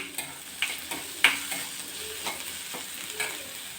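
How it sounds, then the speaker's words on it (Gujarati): Dry onions sautéing in a pan for a Kathiyawadi-style khichdi tempering, a continuous close sizzle broken by several sharp scrapes and taps of a spoon stirring against the pan. "પહેલાં આપણે સૂકી ડુંગળી લેવાની છે અને એને સરસ આપણે થોડીક વાર સાતળવા દેશું"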